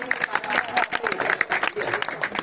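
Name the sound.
applause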